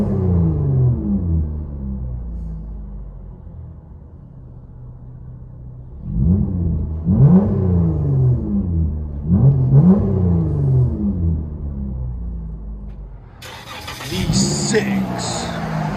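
Chrysler 200 with a 3.6L V6 and straight-pipe exhaust, muffler and resonator deleted, heard from inside the cabin: a low steady idle drone followed by three sharp rev blips mid-clip, then a brief final rev with some cabin noise.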